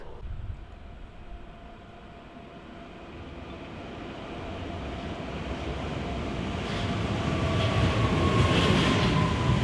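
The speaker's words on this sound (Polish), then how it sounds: "Właśnie jedzie nasz pociąg!" A train approaches, its rumble and rattling steadily growing louder with a faint high whine, rising toward the end.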